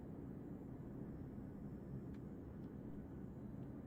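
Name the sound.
aircraft flying off with hooked cargo in video game Arma 3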